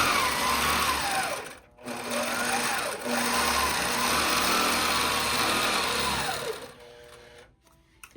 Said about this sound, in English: I'm going to sew down all my batting again.